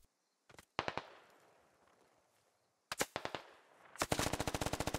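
Gunfire in the video game SquadOps, several sharp bursts of automatic shots, then a long rapid volley near the end, loud and close with quiet gaps between the bursts and no talking.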